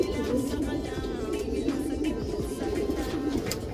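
Racing pigeons coo in a low, steady murmur, several birds overlapping close by with a soft continuous rumble and no talk.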